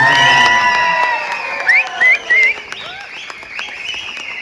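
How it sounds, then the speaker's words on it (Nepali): A rally crowd cheers with loud, whooping shouts and high whistles, sharp bursts rising and fading in quick succession, with lighter clapping beneath. "सम्मानको लागि जोरदार ताली बजाइदिनको लागि"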